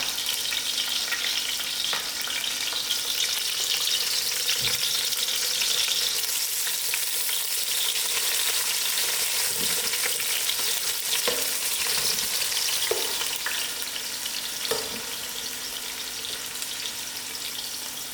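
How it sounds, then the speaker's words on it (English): Onions fry in masala for a Durban chicken curry, giving a steady, close sizzle that runs unbroken throughout, with a few faint clinks of stirring and no voices. "I will allow these onions to fry out and then use up the other ingredients"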